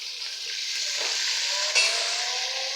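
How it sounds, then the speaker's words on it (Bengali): Onion fries in a pan with ginger garlic paste and salt, giving a steady, close, even sizzle throughout, with a single soft clink partway through. "পেঁয়াজ হালকা করে ভেজে নিয়ে আদা রসুনের পেস্ট, লবণ দিয়ে দিলাম"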